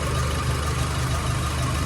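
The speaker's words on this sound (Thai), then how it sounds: "อันนี้ครับเป็นการเต้นของ เครื่องยนต์" A Nissan Navara pickup engine idles with an even low rumble throughout, close and constant, with no voices.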